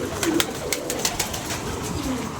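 Soft pigeon cooing and fluttering nearby, steady and low, with no voices.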